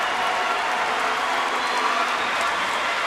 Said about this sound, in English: the crowd now are all standing up and chanting Pervis.